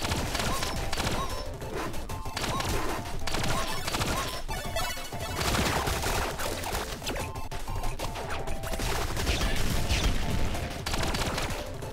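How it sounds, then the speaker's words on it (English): A grenade blast hits an enemy in the top-down shooter Relic Hunters Zero, buried in a dense, loud wall of continuous gunfire, crashes and impacts that run for the whole stretch without let-up. "he did get hit by that grenade"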